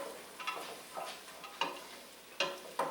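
Chopped vegetables sweating in a soup pot for cream of turkey rice soup, with soft sizzling and several sharp scrapes and clinks of stirring, moderately close and without talk.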